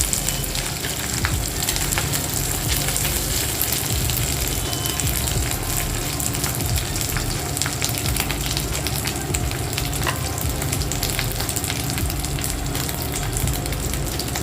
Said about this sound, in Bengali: এর মধ্যে একটু আদা বাটা দিয়ে দিচ্ছি ভালো করে তেলের মধ্যে নেড়ে নিচ্ছি